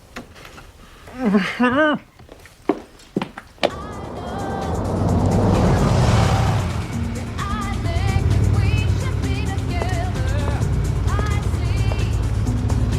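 A car engine hums steadily as the vehicle drives, a continuous moderate rumble lasting several seconds after a brief stretch of people talking at the start.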